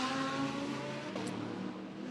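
Race cars climbing the hill toward Maternity bend at the Macau Grand Prix, bunched under a safety car, engines droning loudly and steadily close by with a brief higher whine partway through.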